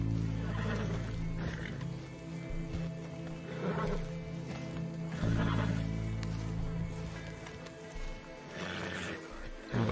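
A horse in the video game Red Dead Redemption II gives loud, rough neighs and snorts in several bursts, close up, over a constant low rumble in the background.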